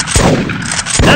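Hunting rifle shots in the game Big Buck Hunter Pro: loud, close blasts in quick succession with sharp attacks, filling the whole short moment.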